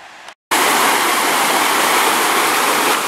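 Steady, loud rush of a small mountain stream flowing through a meadow in the Tatra mountains, continuous and close with no voices, following a brief quieter moment at the start.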